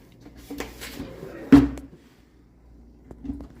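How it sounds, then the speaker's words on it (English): Drawer on soft-close slides pushed into its cabinet: faint rubbing and sliding, then one firm wooden thump as it seats, followed by quiet handling noises in a still room. "now we can actually put our drawer in."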